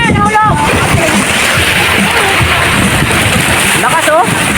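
Strong waves crash and slosh against the side of a boat off a beach resort in Maragondon, Cavite, with loud continuous splashing and rushing water broken by sharper splatters.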